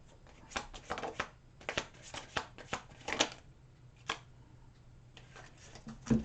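Tarot cards are shuffled close by in a quick, irregular series of crisp riffling slaps and flicks, with short pauses between bursts.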